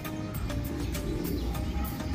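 Racing pigeons coo at a training session in Villasis, Pangasinan. The soft, faint calls sit low under a steady background rumble, with a few brief chirps scattered through.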